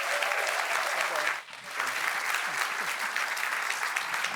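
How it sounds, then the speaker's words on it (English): A studio audience applauds the judges at the close of a live show, steady dense clapping filling the room throughout with a brief dip midway, crowd noise blending in. "Can we make some noise for our judges, please?"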